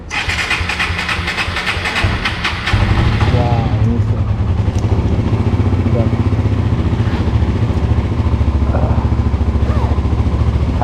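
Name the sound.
Suzuki GSXR motorcycle engine started and running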